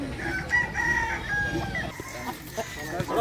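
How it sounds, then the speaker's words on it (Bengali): Country chickens and a rooster in a market lane where birds, some meant for fighting, are sold. Clucking and crowing carry close and loud over faint background bustle in a short burst. "দেশি মুরগি বিক্রি হয় এই গলিটাতে"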